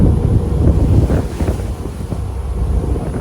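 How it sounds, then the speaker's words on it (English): Wind and the heavy rush of water buffet a Manly fast ferry slowed down in big storm swells, with a loud, continuous roar and low rumble that dominates throughout and no talk. "On the Manly fast ferry, it's had to slow down a little bit here because of the swells."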